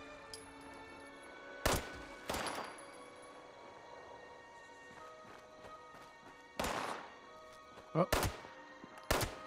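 Gunfire in Fallout 76, with several sharp shots in separate bursts over a quiet game backdrop and a brief exclamation from a player.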